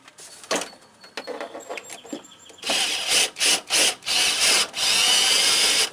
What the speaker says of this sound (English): Just got a cordless drill with a long 1/4 inch extension